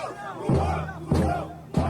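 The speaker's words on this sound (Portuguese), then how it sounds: "o protesto da torcida do Corinthians que teve lá no sábado e fez barulho" Corinthians football supporters at a protest, a large crowd chanting in loud rhythmic bursts that swell roughly every half second or so, voices massed and close.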